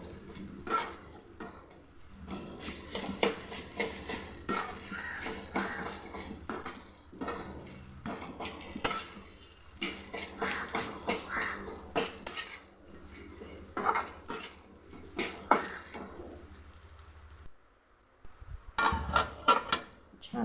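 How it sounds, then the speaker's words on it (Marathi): Soaked sabudana is mixed with crushed peanuts in a pan, a spoon scraping and clinking against the metal in steady repeated strokes for most of the stretch, pausing briefly near the end. "आता हे सगळं मिक्स छान मिक्स करून घेऊ एकजीव करून घेऊ"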